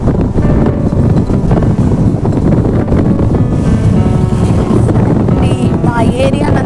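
Cool wind blowing outdoors, a steady loud rushing and buffeting against the microphone that stays continuous throughout, with no clear voices.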